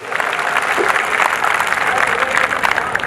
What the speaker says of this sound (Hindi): जब तक सारे मिलके एक बार जोरदार ताली नहीं बजाएं